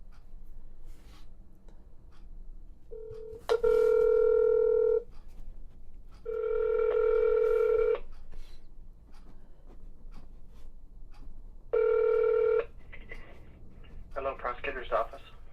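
A phone call being placed to a county state attorney's office in Ohio: several steady ringback tones sound in separate bursts, then a short burst of noise near the end, with quiet room sounds between.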